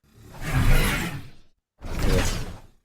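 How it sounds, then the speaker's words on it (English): Two swelling whooshes made by tossing pins into a sound design tool, each rising to a loud, airy peak and fading, separated by a short silence. "it's going to make something that you can make sound like a Whoosh"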